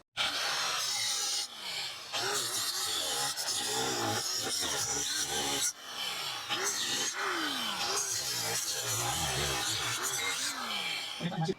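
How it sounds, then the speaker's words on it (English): An abrasive cutoff wheel grinds through welds on a bent dump trailer jack, a loud, continuous harsh whine with rising and falling pitch sweeps as the cut bites, broken by a few short pauses, and a voice is heard over it. "I'm going to use this cutoff wheel till I can't use it anymore. So what I'm going to attempt to do is slice these welds in half."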